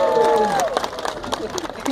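Audience at the Edmonton International Street Performers Festival applauding and cheering a performer, a dense wash of clapping and crowd voices that starts with a voice over it and then carries on alone at close range.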